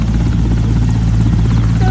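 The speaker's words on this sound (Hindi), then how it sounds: "ये वाला जो हेलीकॉप्टर है अभी उड़ेगा" A helicopter at Darbhanga AIIMS after the Prime Minister's visit makes a loud, steady rotor and engine roar, very close and continuous throughout.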